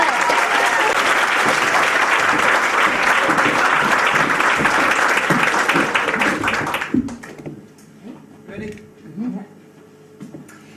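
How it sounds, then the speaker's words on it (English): Audience at a live stage event in Leeds applauding loudly for a double act, dense sustained clapping for about seven seconds that drops away as people start talking. "So I want you to give a big round of applause, lots of support, lots of love for Peg Alexander, Alison Pilley!"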